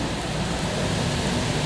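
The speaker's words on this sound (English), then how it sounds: "We're used to rain, but not like this." Heavy rain pours down outside a building in Miami, a dense, steady hiss with no breaks and no voices.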